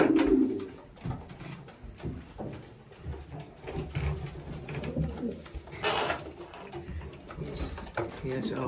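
Pigeons coo repeatedly inside a breeding loft, with soft wing flutters and low throaty calls overlapping at close range, and some background voices and shuffling noises.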